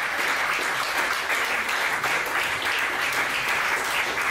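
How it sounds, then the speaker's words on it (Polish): Sustained audience applause at a gala operetta concert, a dense even patter of many clapping hands filling the hall at steady loudness throughout, with no talk over it. "Zasłużone brawa."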